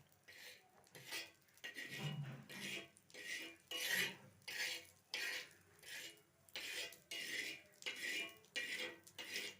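A metal spoon scrapes and stirs oil across a hot griddle in a home kitchen while an omelette is prepared, giving repeated rhythmic scraping strokes, close and fairly loud, about a dozen in quick succession.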